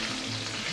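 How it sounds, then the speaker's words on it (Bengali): Onions fry in a pan for a fish curry, making a continuous loud sizzle that stays constant for the whole brief moment. "আমি পেঁয়াজটাকে একটু ভালো করে ভেজে নিচ্ছি"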